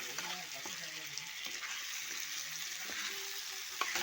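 Mushroom bhaji sizzles and fries in a pan, a steady close hiss with occasional stirring scrapes while someone talks over it.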